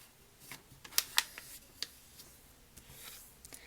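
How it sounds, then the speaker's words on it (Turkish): An A4 sheet of paper being folded to make a wallet, heard as soft crinkles and a few sharp creasing snaps, quiet and close, with no talk. "İlk olarak kağıdımızı dikey bir şekilde ortadan ikiye katlayalım."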